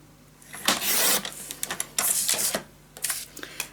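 Paper is cut for a Halloween pop-up scrapbook mini album in a series of close, crisp bursts: several rasping slices separated by short pauses, heard alone.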